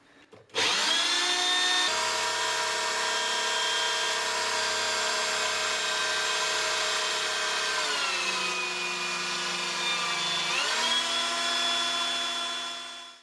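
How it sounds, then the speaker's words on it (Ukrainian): Electric drill running a pump that transfers wine out of a large barrel, a steady whining motor hum held for several seconds, dipping in pitch partway through and then rising again, with no voices. "Для порівняння я під'єднав звичайну електричну дрель і зараз продемонструю вам, який напор і яка швидкість переливання при застосуванні електричної дрелі."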